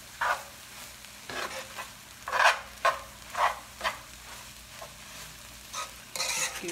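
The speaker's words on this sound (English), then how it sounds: "my onion has been cooking for about 12 minutes now" Onions for Sri Lankan seeni sambol frying in a pan, a low steady sizzle broken by repeated scraping stirs at an uneven pace, close and moderately quiet with no talking.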